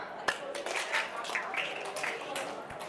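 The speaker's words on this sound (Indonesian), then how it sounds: "satu tepukan" A class of junior high students at an inspiration session claps once together: a single sharp, crisp clap near the start, followed by a low murmur and room noise with voices in the background.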